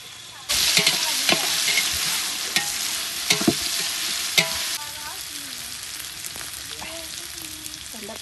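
Onions and green chilies hit hot oil with fennel seeds and leaves for mandi, bursting into a loud, continuous sizzle close by, punctuated by scraping stirs and spoon clinks.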